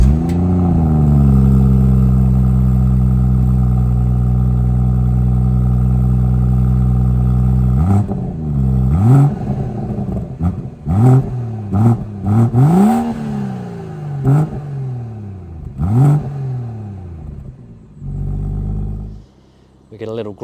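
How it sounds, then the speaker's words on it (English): A BMW M140i burbles and revs through its twin tailpipes: a steady, loud idle drone, then a run of sharp blips and rises close by, with a few voices in the background. "this is one of the real giveaways that it's an M140i is the twin tailpipes and the sound that comes with it"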